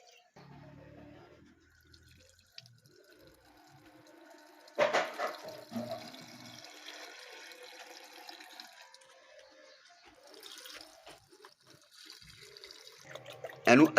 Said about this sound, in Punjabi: ਇਹਨੂੰ ਬੱਚਿਆ ਧੋ ਲਾ ਹੁਣ ਬੈਟਰੀ ਨੂੰ